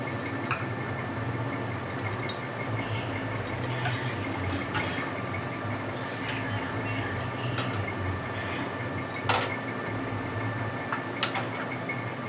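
Cooking oil poured into a heated kadai while making coriander rice, a steady liquid trickle and light dripping with faint sizzle, continuous and fairly close for about twelve seconds, with no talking.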